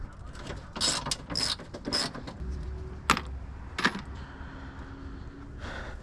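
A ratchet works on a radiator bolt on a 4th-gen V6 vehicle, giving bursts of close metallic clicking and clattering, followed by a few sharp clinks of loose metal parts.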